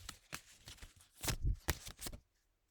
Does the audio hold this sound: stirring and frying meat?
no